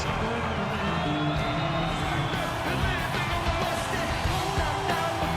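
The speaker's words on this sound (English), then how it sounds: "some polite applause from the crowd" A boxing arena crowd during a heavyweight title fight, a dense roar of cheers, yells and scattered applause that carries through the whole stretch, loud and continuous.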